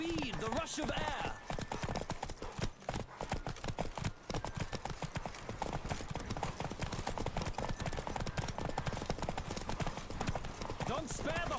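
A racing horse pounds along at a gallop in The Witcher 3: Wild Hunt, the rapid rhythmic hoof strikes loud and unbroken for the whole stretch, with voices talking above them.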